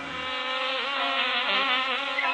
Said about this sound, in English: The bees were the last to go in